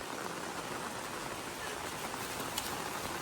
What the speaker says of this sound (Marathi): बऱ्याच वेळानंतर मुंबईमध्ये पाऊस पडतोय जोरदार